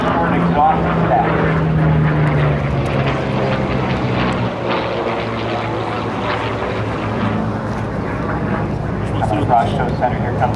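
WWII propeller warplane with short exhaust stacks passing an air show crowd, a loud continuous droning engine roar, throaty and sustained, with announcer talk underneath.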